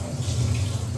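Water is drained off soaked green peas for a homemade samosa filling, giving a steady, continuous pouring rush with a low hum underneath, close and even throughout.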